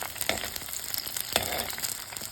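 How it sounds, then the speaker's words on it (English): A soft crackling sizzle of dry red chilli frying in a pan, steady and fairly faint, with a couple of sharper pops. "Let red chilli get fried."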